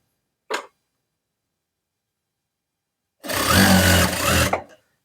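Sewing machine stitching a fabric cover onto the strap of a monk's alms bowl, a brief tick, then a pause of silence, then a close, steady mechanical run of stitches lasting just over a second before stopping.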